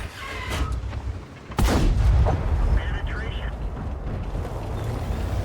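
A tank's main cannon fires a single sniping shot in a tank battle game, a sudden loud boom followed by a rumbling tail over steady engine drone, with someone talking throughout.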